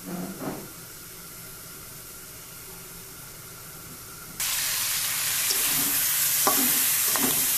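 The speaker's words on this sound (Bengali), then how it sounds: "আর এদিকে আমি তরকারি গরম করে নিচ্ছি" Curry being heated and stirred in a pan for a cauliflower, potato and egg dish, a low background hush that turns into loud steady sizzling halfway through, with a few scraping stir strokes and no talk.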